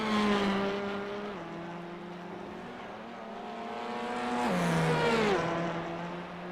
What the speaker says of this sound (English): Lovely sounding Veloster TCR